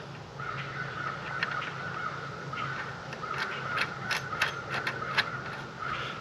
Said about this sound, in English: I'll put a washer, flat washer, then a lock washer, and then I'm going to tighten up with the nut.